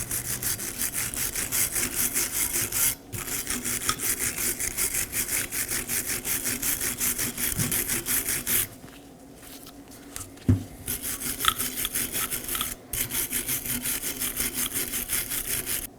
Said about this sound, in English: Now I'm going to clean our brake caliper bracket using a wire brush.